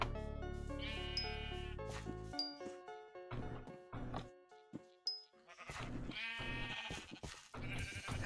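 Sheep in the Minecraft video game bleating several times in short bursts over game music, with soft chiming tones between the calls and no talk over them.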